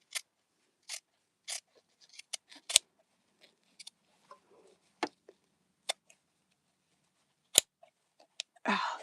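Scissors snip through fabric during bag sewing, with sharp isolated cuts scattered irregularly across the stretch, some louder than others, and a brief rustle near the end; no talking.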